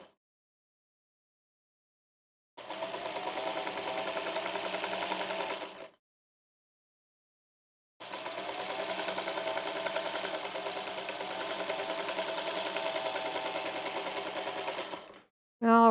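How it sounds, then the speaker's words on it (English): Vintage sewing machine stitching a quarter-inch quilt seam in two bursts of fast, even mechanical whirring, separated by silence, with a short voice at the very end. "I wish they made new sewing machines as accurate as they make these little vintage ladies"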